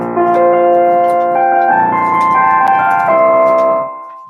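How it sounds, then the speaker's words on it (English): Piano notes from a WebAssembly MIDI synth with reverb added, a loud run of chords and melody smeared together by a long reverberant tail that fades out at the end, no voices. "We can also just add some reverb to it."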